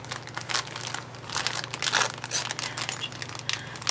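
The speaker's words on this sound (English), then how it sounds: "Sorry for all the crinkling" Gift packaging crinkles steadily up close as a parcel of craft goodies is unwrapped, with dense rustling bursts and brief crunches throughout and no voice.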